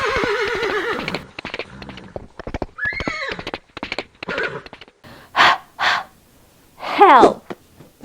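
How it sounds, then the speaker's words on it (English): A horse whinnies with a wavering, descending call near the start, followed by further neighs and snorts later; a nearby voice speaks in between. "look at that horse"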